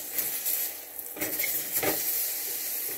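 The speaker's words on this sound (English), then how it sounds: "Oh, my little burger, please don't burn without me." A burger fries in a pan, giving a steady, close sizzle with a couple of brief stirring or scraping bursts and no talking.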